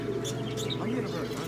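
Small birds chirping and tweeting in a pet store, over a busy indoor background, with people talking nearby.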